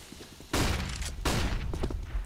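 AK rifle fire in the video game CS:GO, heard as two sharp, rapid bursts of gunfire with a boomy tail, fairly quiet in the mix and spaced under a second apart.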